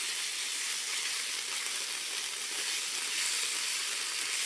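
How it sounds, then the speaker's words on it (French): Red curry paste frying in a spoonful of oil, a loud, dense, continuous hiss of sizzling that stays steady from start to finish, close and with no voices. "faire revenir avec une cuillère à soupe d'huile la pâte de curry"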